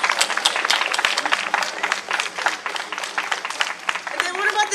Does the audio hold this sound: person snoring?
no